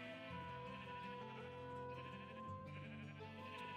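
Sheep bleat in drawn-out, wavering cries that carry steadily through the whole stretch with no talking, the calls overlapping into a continuous, close, fairly loud chorus.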